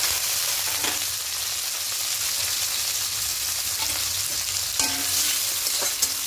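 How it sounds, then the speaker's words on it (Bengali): Chopped onion frying in mustard oil in a wok, a steady close sizzle with occasional stirring scrapes and clinks, no voices. "পেঁয়াজটা দিয়ে হালকা একটু লাল লাল করে পেঁয়াজটা ভেজে নেব"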